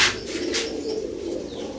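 Pigeons coo in a loft, a soft rolling low coo repeating steadily through the moment, close and clear with faint rustling of wings.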